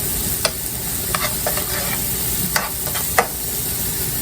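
Chopped fresh mushrooms cook in a pan for keto cheesy garlic chicken, a steady soft sizzle with a few sharp utensil clicks and scrapes scattered through, close up and with no talking.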